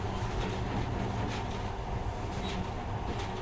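A monorail train runs through tunnels in the video game Metro Last Night, a steady, dense rumbling roar with faint rattling, continuous and close, with no one speaking.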